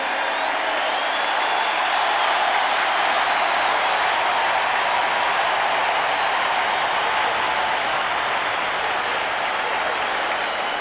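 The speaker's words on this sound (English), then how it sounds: "listen to the applause for Kenny Stabler" A packed stadium crowd applauds quarterback Kenny Stabler at a 1982 Falcons–Saints NFL game, a steady, dense roar of clapping and crowd noise that holds evenly and alone for about eleven seconds.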